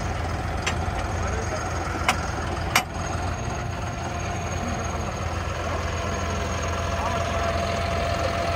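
A brand-new John Deere tractor with a CRDI diesel engine idles steadily with a low, even drone. Three sharp clicks stand out early on over the constant mechanical hum.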